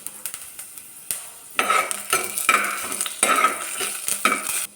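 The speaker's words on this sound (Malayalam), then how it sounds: "വെളിച്ചെണ്ണ ചൂടാകുമ്പോൾ കടുക് ഇട്ട് കൊടുക്കാം. കടുക് പൊട്ടിക്കഴിയുമ്പോൾ" Crackling pops burst in quick, irregular flurries over a hot sizzle as mustard seeds splutter in hot coconut oil, close and fairly loud with no talking.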